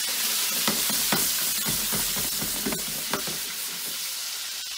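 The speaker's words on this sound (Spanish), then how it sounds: "lo voy a echar en una sartén y voy a echar los calamares" Squid sizzling and frying in oil in a pan, a steady loud hiss broken by repeated bursts of crackle and spatter as the pieces are stirred, with no voices.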